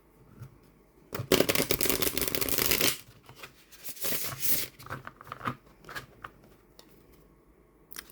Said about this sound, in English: for the shuffle, slightly stiff, but not a bad shuffle